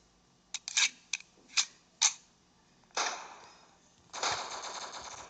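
Gunfire in the blocky shooter game Block Strike: several sharp single shots crack in quick succession, followed by two longer rattling bursts of automatic fire, crisp and close with no talk over them.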